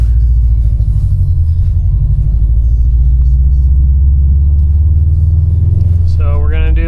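Engine of a 2018 Subaru STI on a road run for a virtual dyno log, a loud, close, deep low rumble holding steady, with a voice breaking in near the end.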